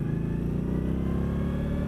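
A 2018 Indian Scout Bobber motorcycle with a dual exhaust setup on one side rumbles close by at a steady, throaty idle-to-rev, loud and continuous with a deep pulsing beat and no talking.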